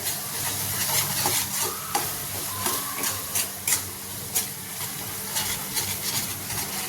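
Spices fry in a pan while a spoon stirs them, giving a loud, continuous sizzle with repeated scraping strokes and small clinks throughout.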